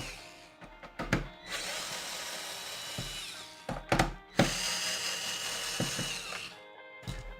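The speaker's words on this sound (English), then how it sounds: "I'm using the electric screwdriver. It might be loud." An electric screwdriver whines in several loud bursts of varying length while modding a GameCube console, with short pauses and clicks between runs and no talking.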